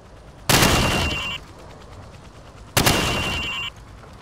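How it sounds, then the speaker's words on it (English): Two loud, sharp rifle bursts at a firing range in Call of Duty 4, each a sustained crackling volley lasting under a second, separated by a short pause, with no talking. "Now, shoot each target while aiming down the sights."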